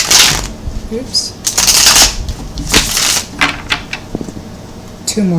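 Tarot cards being shuffled by hand in repeated crisp riffling bursts, close and loud, with a voice speaking over the shuffles.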